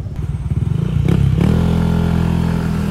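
A Yamaha NMAX V2 scooter fitted with an RS8 pipe and RS8 CVT setup idles with a loud, close, throbbing exhaust pulse, then revs up into a steady, deeper drone.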